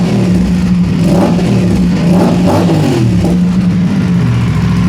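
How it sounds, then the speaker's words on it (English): An Aprilia RS 457 with a GPR Ghost Inox full-system exhaust and dB killer fitted, already warm, revs in several deep, bassy bursts over a steady engine rumble, loud and close with no talking. "so I'm going to give it a rev"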